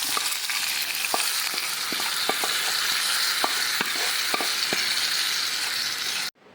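Oil tempering sizzles and crackles steadily in a pan as Udupi hotel-style chutney goes in, with occasional sharp pops and stirring scrapes before the sound cuts off abruptly near the end.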